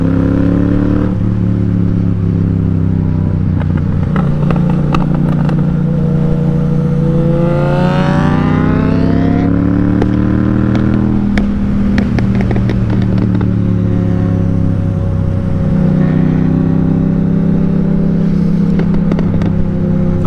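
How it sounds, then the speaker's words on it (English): Suzuki GSX-S 750 motorcycle with a Black Widow exhaust revving hard and loud up close, engine pitch sweeping up and down through repeated blips, with crackling backfires and pops between revs. "I just gotta hear this Black Widow on this Gsx-S, man. So the backfires are unbelievable on it."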